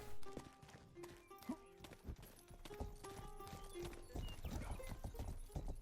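A horse galloping in the medieval open-world video game Rustler, steady rapid clip-clop of hooves with game sounds around it, loud and continuous throughout.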